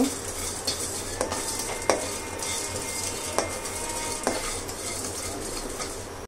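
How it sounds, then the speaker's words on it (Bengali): Whole spices fry in a pan for a chicken kala bhuna, a steady soft sizzle running throughout with several sharp clinks of a utensil against the pan at irregular intervals; no talking. "তো আমি এগুলোকে 3 থেকে 4 মিনিট ভেজে নিব।"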